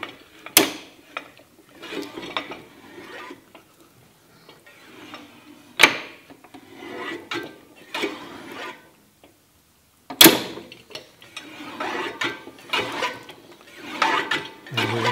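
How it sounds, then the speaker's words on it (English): Chaff cutter gearing being shifted into the next gear, with sharp metallic clunks at intervals and rattling, whirring mechanism noise in between, fairly close and without speech. "So we can move the gear forward into the next gear."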